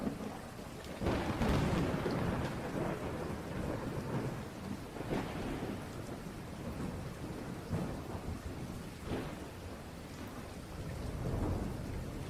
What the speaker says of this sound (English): Rain lashed against the dusty windowpane of the antique shop